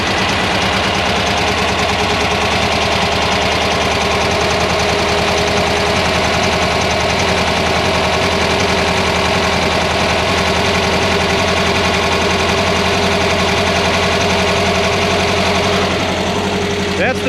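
A Volkswagen Beetle rally car fitted with a Weber carburetor idles steadily and loudly up close, its engine giving a constant rumble with a faint knocking quality that lasts throughout.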